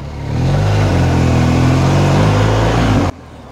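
A BMW GS 1250 Pro HP motorcycle engine runs steadily at low road speed, a loud, close, continuous mid-pitched drone with shifting harmonics, cutting off sharply near the end to a quieter idle.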